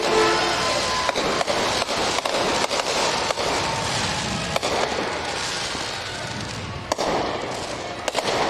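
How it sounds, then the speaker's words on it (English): Fireworks crackle and pop at a holiday parade, loud sharp bangs scattered over a dense, continuous hiss of crowd and crackling noise. "All right, look at the fireworks."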